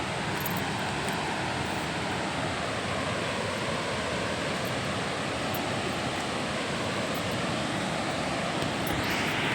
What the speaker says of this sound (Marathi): तर पाण्याने आवाज येतोय